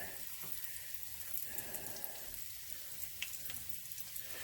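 Morel mushrooms frying in olive oil in a pan outdoors, a steady low crackling sizzle with faint pops running throughout, no talking.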